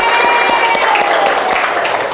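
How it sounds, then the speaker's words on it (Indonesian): A classroom full of students clapping steadily after a group's math presentation, a dense patter of hands at close range with some voices mixed in. "kita tutup dengan tepuk tangan"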